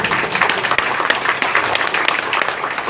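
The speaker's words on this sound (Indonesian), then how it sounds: "Tepuk tangan." Crowd applause at a ceremony installing the DPK Cilincing branch of Madas Nusantara in North Jakarta, a dense, steady wash of many hands clapping close by for about three seconds.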